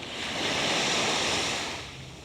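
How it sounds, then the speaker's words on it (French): Ocean waves washing onto the beach in Malaga at night, a broad steady roar of surf with a gentle swell and fade, near and loud, no voices. "pour moi, le bruit des vagues, genre c'est vraiment un sujet de reconnaissance"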